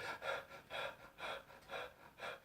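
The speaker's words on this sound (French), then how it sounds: "avoir une respiration plus haletante" A person demonstrates fast panting breath for relaxation practice: five rhythmic, breathy in-and-out pulses about half a second apart, close to the microphone and alone.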